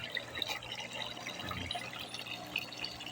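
Water running into a container holding tubifix worms, a faint trickle and dripping splash, quiet and steady with small irregular drips.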